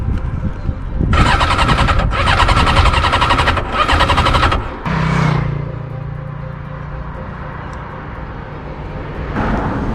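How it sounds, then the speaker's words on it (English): A 500€ sportbike engine on offroad tires cranks and catches in several loud, broad revving bursts, then cuts out and idles to a low rumble before another brief surge. "Try to start the bike on pre."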